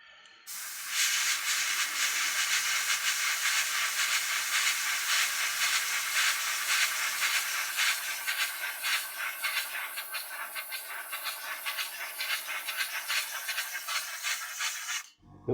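An airbrush from an ICM paint set hisses in a steady spray of air for over ten seconds, cutting off abruptly at the end.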